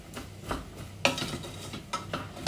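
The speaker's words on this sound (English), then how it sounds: "and we just mix all that in" Spoon scraping and stirring walnut tart filling in a bowl, a few soft clinks and scrapes in an uneven rhythm, close and fairly quiet.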